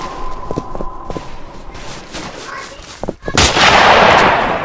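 Gunshots in the Roblox western game Westbound: a few sharp cracks early on, then a loud, sustained burst of noisy blasts toward the end, close and forceful.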